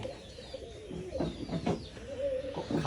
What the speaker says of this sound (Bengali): কবুতরগুলো আসলেই অনেক সুন্দর